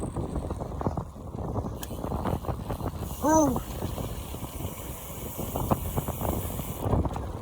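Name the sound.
wind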